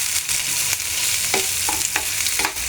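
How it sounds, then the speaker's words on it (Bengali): Sliced onions fry for birista in a pan, with a steady broadband sizzle and several short scraping stirs of the spatula against the pan, close and fairly loud, no voices. "তো আমি পেঁয়াজটা ভেজে নিচ্ছি।"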